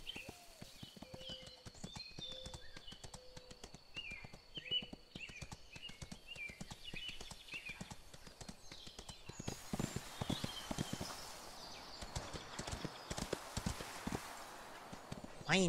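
A horse's hooves clip-clop in the Ostwind video game, a steady run of sharp hoof beats that grows busier and louder toward the end.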